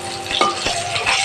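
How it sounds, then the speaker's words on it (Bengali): Komol kath fish frying in a pan, a close sizzle broken by a few short scraping or stirring knocks, brief and fairly loud, with no voices. "মাছটা ভেজে নিচ্ছি"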